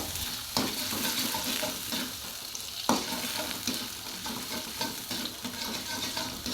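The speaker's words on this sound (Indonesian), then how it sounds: "Nah ini minyaknya sudah panas, kemudian bumbunya dimasukkan ya teman-teman." Spice paste sautéing in hot oil in a pan, a loud, close, steady sizzle broken by stirring scrapes and a sharp clatter near the middle, with no one talking.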